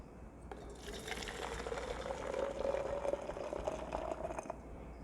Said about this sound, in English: Let me just pour some 400 ml of water.